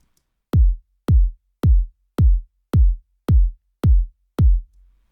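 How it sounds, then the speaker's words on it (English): A steady run of eight full, heavy kick drum thumps combining deep low end with a punchy attack, evenly spaced and loud, with no other sounds. "And layered together, they sound like this."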